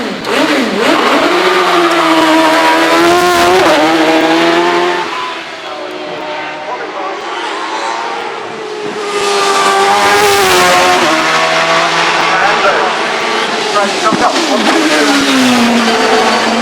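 A 2.8 litre Nicholson McLaren V8 in a Gould hillclimb race car at Shelsley Walsh screams loud and close, revving hard through gear changes and briefly dipping before climbing again.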